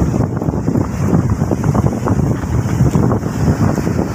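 Strong typhoon wind roars at the seashore, buffeting the microphone in loud continuous gusts over rough surf, with no voices.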